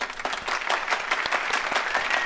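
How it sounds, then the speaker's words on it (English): Audience applause after a choir performance, many hands clapping close and lively with distinct individual claps standing out from the crowd. "Let's give them another round of applause."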